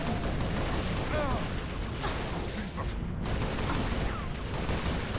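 Rapid bursts from a 20-shot support gun in Halo, a dense, continuous rattle of game gunfire filling the clip with a muffled voice faintly underneath.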